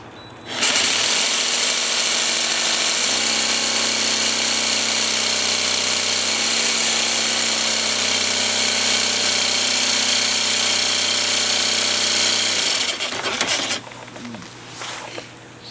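A jigsaw cuts a large curve through tile, a loud, steady high-pitched whine with a continuous buzzing drone that holds for about twelve seconds, shifts pitch slightly partway through, then winds down and stops near the end.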